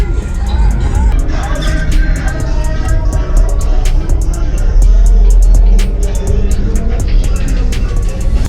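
Two 12-inch subwoofers wired to half an ohm pound out very loud, heavy bass from a car trunk, a steady booming low end with rattles and clicks over it, and voices in the background.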